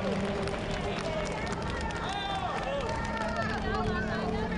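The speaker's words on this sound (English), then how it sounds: "Hear that crowd cheering." Crowd cheering along the course of the Standard Chartered Hong Kong Marathon 2019, a steady broad roar of spectators with some shouts rising through it, continuous for the whole stretch, with a faint commentator voice underneath.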